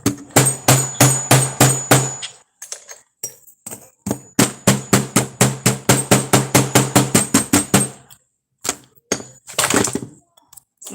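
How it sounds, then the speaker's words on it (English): Rapid rhythmic metal hammer strikes on a copper cuff bracelet in bursts, ringing sharply, a long run of evenly spaced blows after a short pause, close and loud. "Okay, done a lot of hammering."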